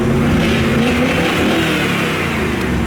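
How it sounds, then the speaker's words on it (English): Chevrolet Corvette engine, still warming up, smoky and stuttering on light throttle, revs hard in a loud, steady roar that holds for the whole stretch. "The engine's running better now that it's warming up."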